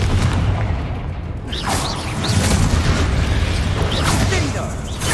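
Confringo explosive spell blasts in the video game Hogwarts Legacy, dense booming bursts and crackling impacts layered over continuous loud combat noise, with voices shouting over the fray.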